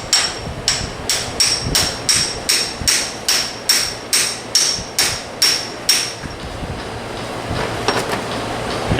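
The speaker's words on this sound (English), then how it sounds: "you just tap it on with a hammer" A hammer taps a timing chain sprocket onto a crankshaft in steady, rapid metallic strikes, about a dozen ringing blows at an even rhythm, close and loud, then stops as a low hum continues.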